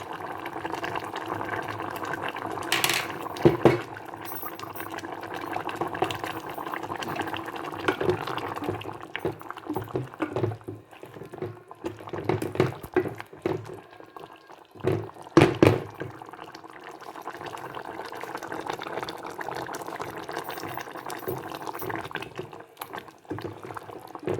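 A pot of fish curry bubbles and simmers steadily on the stove, with occasional knocks and clatters of utensils cutting through the continuous boiling.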